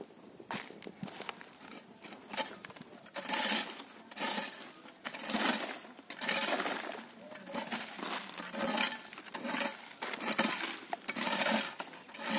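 A hand weeder is pushed over hard, dry, grassy ground at home, making repeated scraping, crunching and clinking strokes in uneven bursts, fairly close, with brief pauses between passes.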